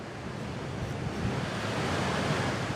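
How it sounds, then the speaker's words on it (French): Powerful ocean waves crashing on a wide sandy beach, a continuous loud, hissing roar that swells slightly as it goes on, heard alone without voices. "où déferle le grondement de puissantes vagues"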